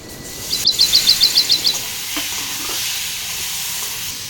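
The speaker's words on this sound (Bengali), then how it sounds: "এখন ভালো করে কষে নেব।" Ground green chilies and spices stirred and sautéed in a pan for a rohu fish and pumpkin curry, a soft steady sizzle with scraping stirs, while a bird chirps rapidly several times nearby early on.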